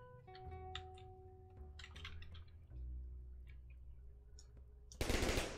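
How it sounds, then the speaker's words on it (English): Gun firing in the first-person roguelike game Slasher's Keep, quiet digital blips and tones followed by a sudden loud burst of noisy gunfire at the end. "Oh my god, it's a gun."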